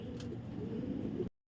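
Breeding pigeons in a rooftop loft give a soft, low, continuous cooing up close for about a second before the sound cuts off.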